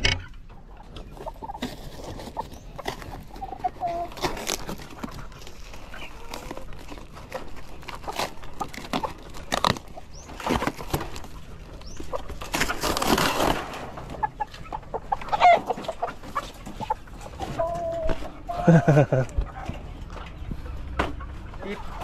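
Hungry Dekalb Brown chickens and a rooster clucking at feeding time in a coop, scattered short clucks and squawks over rustling and scratching, with a person talking intermittently nearby.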